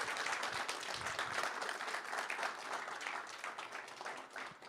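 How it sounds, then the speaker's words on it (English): Participants at a built environment digital twin hackathon final event applaud themselves in a continuous, full round of clapping that stays fairly even and softens slightly toward the end. "give yourself the round of applause because you made it"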